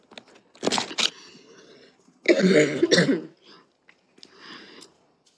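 A person coughs several times in rough bursts, one long harsh fit in the middle followed by a softer cough, close and without talk.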